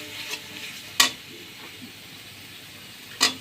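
A spoon stirs turmeric and chili powder in a pan with salt and garlic paste, soft scraping over a quiet sizzle, with a few sharp clinks of the utensil against the metal.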